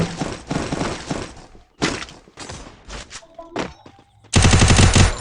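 Gunfire in the video game Free Fire: separate loud shots and short bursts, then a dense, rapid automatic volley at the end, with a voice talking faintly between the shots.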